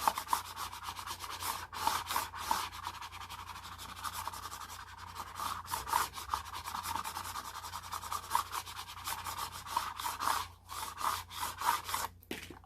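A small card is rubbed back and forth over paper to press it flat onto a planner page, giving a steady close scraping and rasping that runs in short repeated strokes with no talking.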